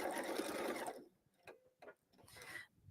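A sewing machine stitches the corner of a holiday pillow with a fast, close, steady whirr for about a second, then stops, leaving a few faint ticks and clicks from the machine.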